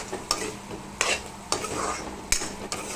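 Spices fry in a pan and are stirred, giving a steady close sizzle with several sharp scraping clatters of the spoon against the pan, and no talking.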